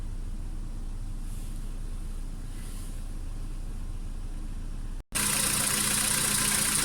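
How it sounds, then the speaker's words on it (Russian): Volkswagen Jetta engine idling steadily just after a cold start in sub-zero weather outdoors, a low continuous rumble that runs evenly before a brief dropout and then returns louder and closer. "Ну все, машина завелась"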